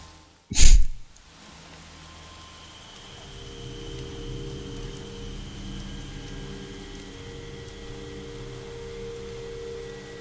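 Steady rain hiss in the video game The Evil Within, after a sharp burst at the start, with a low rumbling drone underneath throughout; no voices.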